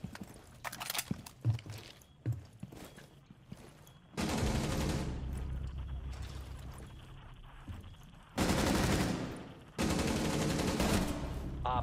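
Gunfire in the video game Rainbow Six Siege, scattered single shots followed by several long sustained bursts of rapid fire with brief gaps between them.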